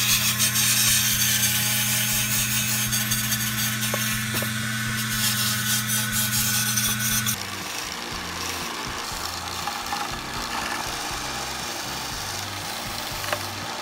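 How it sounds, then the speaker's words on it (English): A belt sander grinds along the edges of a wooden plaque, a loud continuous motor whine and abrasive rasp that changes pitch and texture partway through as the wood is worked. "we'll go back to the belt sander and I'll sand the edges of the plaque"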